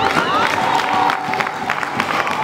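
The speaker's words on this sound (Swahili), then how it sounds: "Pigie Bwana Yesu makofi." A church congregation at a Christian seminar applauds for Jesus, dense steady clapping with crowd voices and cheering mixed in throughout.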